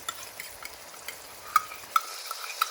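Spices and tomato puree frying in a pan for a chicken bhuna give a soft, steady sizzle, with a few sharp clicks of a utensil stirring and knocking against the pan. No one speaks.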